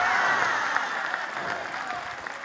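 Church congregation breaking into applause during a sermon on prayer, a sustained wash of many hands clapping at steady volume throughout, dense and roomy with no distinct voices over it.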